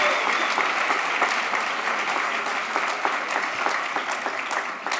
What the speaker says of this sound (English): Can we give these guys another round of applause?